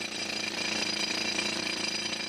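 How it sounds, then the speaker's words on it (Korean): Rock drill boring holes in marble deep in a mine in Makrana, India, a loud, steady hammering roar that runs unbroken and close throughout. "우선 암석에 구멍을 뚫는 기구인 차감 드릴을 사용해 천공 작업에 들어가기로 했다."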